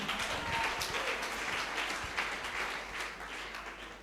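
Church congregation applauding during an evening service, a dense, steady wash of many hands clapping throughout, moderately loud and continuous with no clear talk over it.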